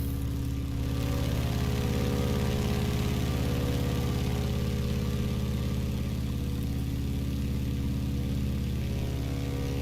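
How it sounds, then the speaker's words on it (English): A Stearman biplane's engine in a flight simulator game drones steadily at a constant pitch, a continuous mechanical hum with no voices and no change in speed. "The engine noise is sweet."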